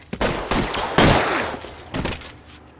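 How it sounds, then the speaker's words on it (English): Gunfire in the video game LA Noire: a quick run of sharp, loud shots in bursts, each with a short crackling tail, fading toward the end with no talking. "211 and shots fired"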